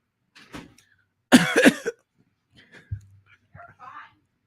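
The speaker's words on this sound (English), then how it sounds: "No, that was a real cough." A single sharp cough bursts out, surrounded by faint scattered noises and brief low thumps in an otherwise quiet room.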